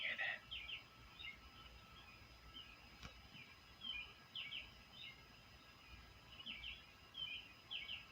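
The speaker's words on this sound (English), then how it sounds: "I wanted to see if you could hear the birds chirping." Faint birds chirp at 4:19 in the morning in short, repeated bursts over a steady quiet hiss, with a calm, still atmosphere around them.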